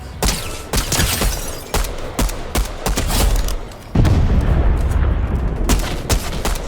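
Gunfire in the Fortnite video game: a series of sharp shots, some in quick bursts and some spaced apart, then a louder rumbling stretch of heavier firing and booms, close and loud.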